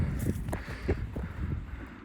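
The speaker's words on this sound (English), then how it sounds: "Whoa, windy." Gusty wind buffets the microphone in low rumbling bursts, loud and close, with a rustling undertone throughout.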